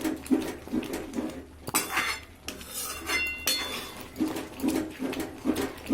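Cooked lentils and bottle gourd being mashed in a pot, with repeated soft thuds and metallic scrapes of a utensil against the pot in an uneven rhythm, close up and moderately quiet, no voices.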